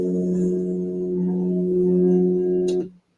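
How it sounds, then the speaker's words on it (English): Steady low, even hum of a film projector motor, loud and close, holding for nearly three seconds before cutting off abruptly. "This is the projector motor hum."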